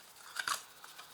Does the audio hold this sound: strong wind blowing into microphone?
no